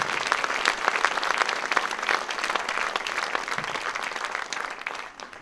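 An audience applauds after a music performance, and the clapping stays steady and full for several seconds before it begins to thin out at the end.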